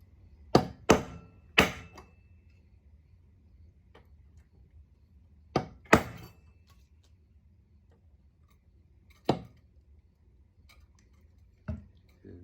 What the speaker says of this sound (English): I've got my cold chisel, and I guess I just kind of tap it.